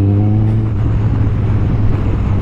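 A Kawasaki ZX-14R motorcycle exhaust rumbles steadily at close range while riding, a deep throbbing drone with a slight rise in pitch as the engine pulls.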